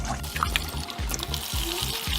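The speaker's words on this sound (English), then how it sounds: "simply rinse the filter through with water." Water poured from a watering can to rinse a K&N air filter, a steady splashing trickle over a low rhythmic pulsing hum, close and alone without talk.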